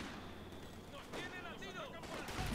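Gunfire from two machine guns in the World War II strategy game Company of Heroes 2, a dense, faint rattle of repeated shots with distant battle noise mixed in.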